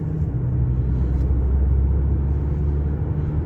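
A 2016 Audi A6 Quattro with a 2.0 diesel engine and semi-automatic gearbox pulls steadily under acceleration, giving a continuous loud low engine drone and cabin rumble with no pauses.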